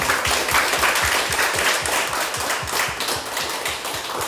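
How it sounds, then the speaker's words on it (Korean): A church congregation at a Friday prayer meeting gives a steady round of applause for God, with dense, even clapping filling the whole stretch at a fairly loud, close level. "우리 하나님께 영광의 박수 올려드리겠습니다"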